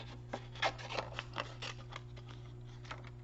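A paper piece for a card is fussy cut by hand with scissors, a close, quiet series of crisp snips and rasping slides in an uneven rhythm over a faint steady hum.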